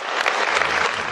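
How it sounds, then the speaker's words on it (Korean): A lecture audience at an investment study session applauds to welcome a guest speaker with a brief, full burst of many hands clapping together, fairly loud and close, with no voices. "큰 박수 부탁드리겠습니다."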